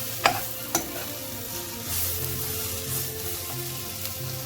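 Spice powder stirred and fried in a pan on the hob, a steady close sizzle with two sharp scrapes of the spoon at the start and a humming tone underneath, no voices.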